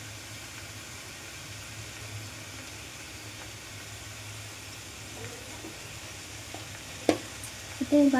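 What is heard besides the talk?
stirring chicken stew in a pan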